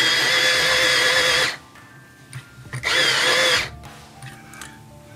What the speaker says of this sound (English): Use my little sharpener here because it needs it.